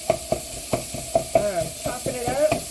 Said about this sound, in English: I'm chopping it up and mixing it around.